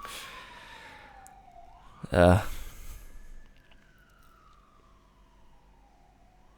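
A distant police siren wails with a slow rising and falling tone, faint through walls, with a loud thump partway through.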